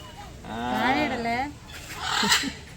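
Silkie chickens cluck and call in a close, drawn-out burst, then a second rougher burst follows after a short pause.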